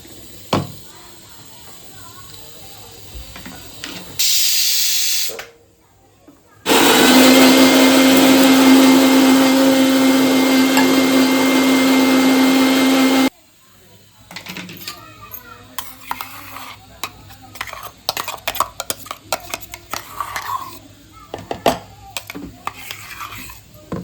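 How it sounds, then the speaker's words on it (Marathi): A small kitchen mixer grinder grinds roasted ingredients in a loud, steady whir. A short first burst is followed by a longer run of about seven seconds, and then come clattering sounds of the jar being handled. "तर चला आता मिक्सरमध्ये बारीक करून घेऊया"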